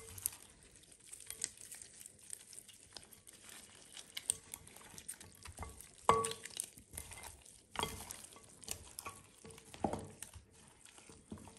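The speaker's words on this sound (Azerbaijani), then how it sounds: "Ətin üzərinə duz, istiot sarı kök töküb yaxşı-yaxşı qarışdırırıq." Meat seasoned with salt, pepper and turmeric is mixed by hand in a bowl, giving quiet, irregular squelching and rustling stirs, close and fairly soft, with a louder knock midway.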